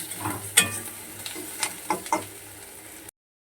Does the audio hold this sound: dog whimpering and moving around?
no